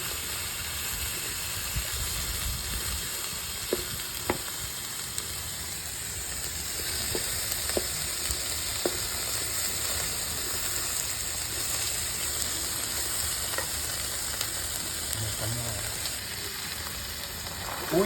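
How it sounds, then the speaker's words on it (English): Peppers cut into small dice sauté in a pan for a meat paella, giving a steady, even hiss and sizzle that runs unbroken throughout with a few faint ticks, and no voices over it. "We add the peppers in jardiniere. And we saute for at least 3 minutes."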